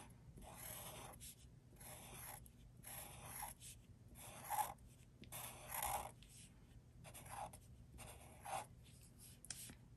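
Pen scratching across paper while drawing scallops in a monochrome mandala doodle, a close, soft series of short scraping strokes in bursts with small pauses between them.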